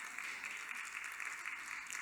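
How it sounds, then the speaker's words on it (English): Light scattered clapping from a church congregation during a sermon, a brief, sparse patter of a couple of claps in a reverberant hall. "I only got a couple claps"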